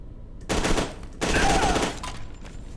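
Enemy shotgun fire in the shooter F.E.A.R. 2, two dense bursts of gunfire about a second apart, loud and close, followed by fainter trailing noise.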